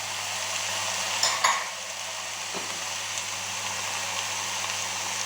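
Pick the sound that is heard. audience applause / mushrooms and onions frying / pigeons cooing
mushrooms and onions frying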